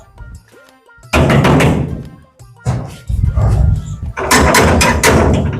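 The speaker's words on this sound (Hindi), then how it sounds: "जरा इसका दरवाजा खटखटा।" Several heavy knocks land on a door amid loud bursts of noise and movement, near and forceful, with brief pauses between clusters.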